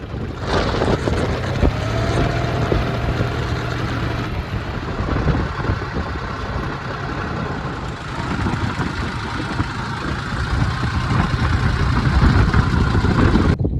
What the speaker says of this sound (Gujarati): ટ્રેક્ટરનું કામ પૂરું